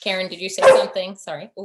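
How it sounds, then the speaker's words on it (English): A hungry dog barks in short yips in the background during an online meeting, mixed in with several people talking. "sorry about my dog who's hungry."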